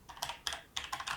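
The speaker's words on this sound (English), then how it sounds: "I'm just making sure I'm typing this correctly." Someone types on a computer keyboard while entering a command, producing quiet, close clicking in several quick bursts separated by short pauses.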